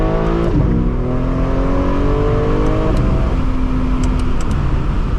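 A 900 bhp BMW M4 Competition with an aftermarket exhaust revs out on a rolling pull at night, engine pitch climbing loudly through a gear, dipping at a shift, then climbing again close up with no talk.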